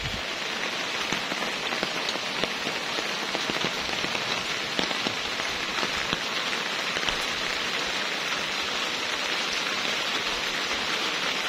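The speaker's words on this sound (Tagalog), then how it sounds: "Kontento sila sa ulan." Steady rain pattering on the leaves of garden plants, including Thai crotons, a dense, even hiss with scattered close drop taps throughout, no voices.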